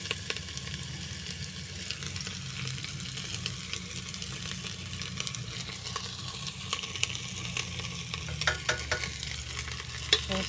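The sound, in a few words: stirring garlic, onion and ginger sautéing in a pan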